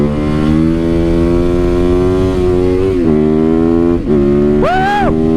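A stock motorcycle engine idles with a loud, throaty hum, then revs sharply upward and back down near the end, close by.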